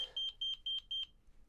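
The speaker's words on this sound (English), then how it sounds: "somebody's beeping at me" A sharp, high electronic beep from a Honeywell Vista 20P alarm system repeats about seven times in quick, even succession, clear and fairly close, then stops.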